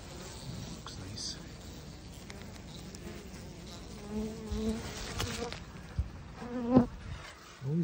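Honey bees at a hive on a mild spring day hum in a constant close buzz, with individual bees swelling louder as they fly past the microphone near the end.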